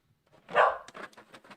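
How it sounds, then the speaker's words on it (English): A puppy gives a short, loud bark up close, followed by a run of softer, quick yips and whimpery barks in an indoor room. "Puppy."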